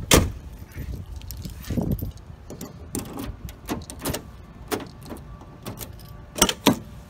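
A key works the lock of a Ford Explorer door, giving a string of sharp metallic clicks, jangles and clunks as the power door lock pops up, close and fairly quiet with no talk.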